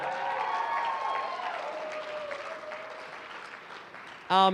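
A student singing showcase audience applauding its performers, sustained clapping with a faint held tone over it that tapers gradually, ending in a sudden loud buzzing burst at the close.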